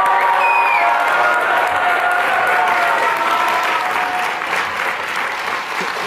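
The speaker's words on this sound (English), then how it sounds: "Let's applaud." A graduation audience at Columbia University breaks into loud, sustained applause for a prize recipient, with a few cheers rising over the dense clapping. The sound stays steady for about six seconds and eases off slightly toward the end.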